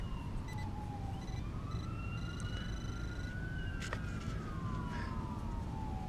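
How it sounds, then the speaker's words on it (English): Emergency vehicle sirens wail and glide up and down at a distance, faint beneath a steady wash of outdoor background noise. "the usual sirens around this area"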